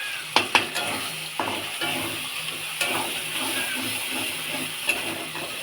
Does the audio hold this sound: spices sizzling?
yes